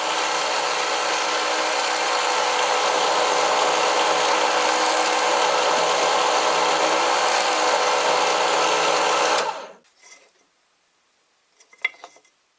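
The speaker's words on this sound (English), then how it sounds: "this is a professional drill press, which drills with a lot of precision." A professional drill press with a bead drill bit bores into a wooden ball, giving a loud, steady, harsh whine for about nine seconds. It then cuts off abruptly, followed by a few faint clicks and clatters.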